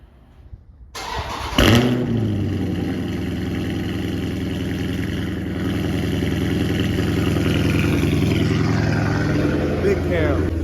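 A Dodge Scat Pack with a big cam and straight pipes starts up and settles into a loud, choppy, lumpy idle close by, its rough rumble steady and swelling slightly toward the end.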